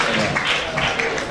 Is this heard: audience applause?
yes